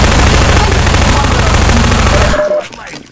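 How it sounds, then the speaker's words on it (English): Rapid SMG fire in Half-Life 2: a loud, continuous burst of automatic gunshots that stops abruptly near the end, leaving a brief fading tail. "I'm gonna get my SMG out"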